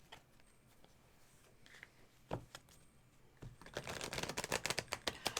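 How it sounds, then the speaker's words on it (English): Tarot cards are shuffled close by, soft riffling and flicks building into a quick, crisp run of snaps toward the end. "I'll start shuffling the cards while you think about that"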